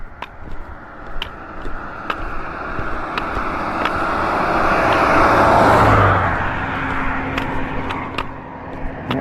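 Highway traffic rolls past a walker on the shoulder before dawn, with one vehicle swelling loud and close through the middle before fading, over a steady distant roadway hum and faint ticking footsteps.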